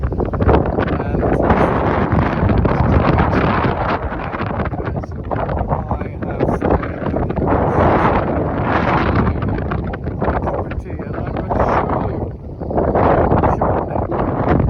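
Strong wind buffets the microphone without letup, a loud, constant low roar with gusts swelling and easing on a very windy day by a meadow and river near Tiraspol.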